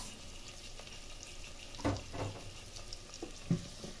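Garlic, ginger and tomato fry in a pan with a quiet, steady sizzle, broken by a few soft stirring scrapes and clacks near the middle and end.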